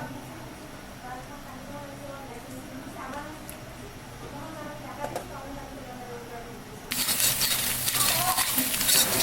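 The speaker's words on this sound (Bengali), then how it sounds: "পেঁয়াজের বেরেস্তা ভেজে নিচ্ছি" Onions frying in white oil in a wok give a steady soft sizzle with occasional stirring scrapes. The sizzle swells to a loud, bright crackle near the end, and a voice talks over it.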